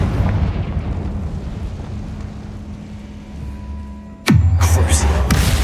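A Confringo explosion spell goes off in Hogwarts Legacy: a sudden, loud blast with a deep rumbling tail bursts out near the end, following a quieter stretch of game ambience.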